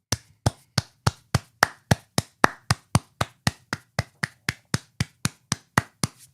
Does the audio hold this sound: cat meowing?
no